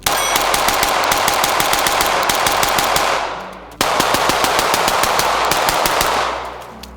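A handgun mag dump fired through a green dot sight: a fast, unbroken string of loud close shots for about three seconds, a short pause, then a second equally rapid string, with no talk.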